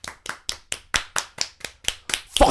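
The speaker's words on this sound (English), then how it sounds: "So let's take a moment to round of applause." A round of clapping from a small group, about ten sharp evenly spaced bursts swelling into a louder flurry at the end, close and with no talk.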